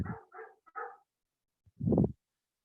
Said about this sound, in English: Can you all hear my dog?